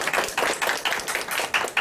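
An audience at a 2019 spring academic conference of a Korean leadership society gives a short round of clapping, a handful of hands striking in loose, uneven bursts in a room.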